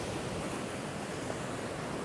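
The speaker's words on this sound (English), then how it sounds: "There's been some absolutely massive waves coming through." Large ocean waves breaking along a beach, a dense, steady wash of surf noise with no distinct individual crashes, heard alone without any voices.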